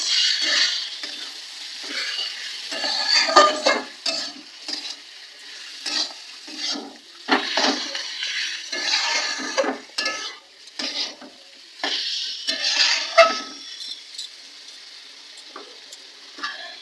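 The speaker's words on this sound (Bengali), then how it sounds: "এবার এতে এবার পরিমাণ মতো দিয়ে নেবো নুন এবার একটু নাড়াচাড়া করে নেবো" Salted mutton curry is stirred in a pan, with a spoon scraping and clacking against the metal in irregular strokes over a soft, steady sizzle, close and continuous.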